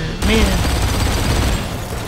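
Explosion in the shooter game Blacksite: Area 51, a sudden loud burst that rolls into a rumbling, crackling roar, with voices over it.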